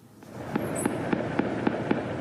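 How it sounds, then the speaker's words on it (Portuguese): Gunfire during a bank robbery in Mococa, São Paulo state, at night: a steady series of about seven sharp reports at even intervals, somewhat distant, over a constant noisy background. "Olha os barulhos de tiro."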